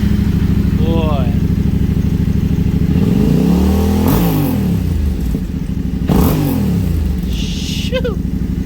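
A Yamaha Tenere 700 motorcycle with an Arrow high exhaust idles loudly close by, then is revved in several quick throttle blips that rise and fall, with a deep, rumbling twin-cylinder burble between them.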